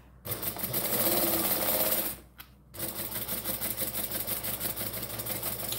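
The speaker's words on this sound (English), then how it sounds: "So we're just going to tack it on because we'll sew it down properly in a minute." A sewing machine tacks reptile-print fabric close to its edge, running in a steady close whirr that stops briefly, then starts again with a pulsing mechanical rhythm.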